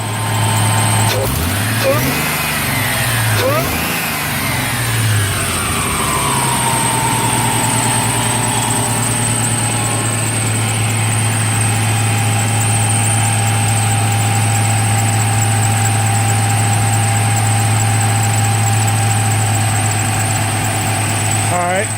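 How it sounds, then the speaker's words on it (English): A 1995 Ford Thunderbird Super Coupe engine starts cold and settles into a steady, slightly fast idle with a small miss, running continuously and loudly close by. "It's still cold, it's idling high"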